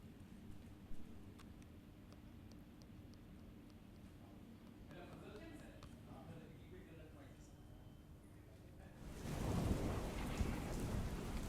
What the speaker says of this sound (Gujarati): આટકોટ કરણી જામગોંદાળા પાંચવાડા વીરનગરમાં વરસાદ વરસી રહ્યો છે